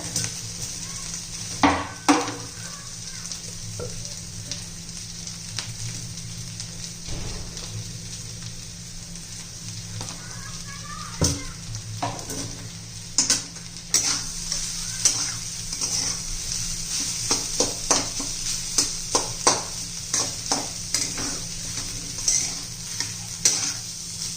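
Spicy potato thecha being stirred in a frying pan while salt goes in. Close, continuous sizzling is broken by repeated sharp scrapes and taps of a spoon against the pan, which grow busier toward the end.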